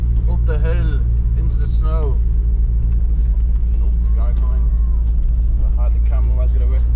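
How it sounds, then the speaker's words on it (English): A turbocharged car engine drones loudly and steadily while climbing a snowy hill, its low rumble constant throughout, with people talking over it. "Guys, the turbo is spooling up."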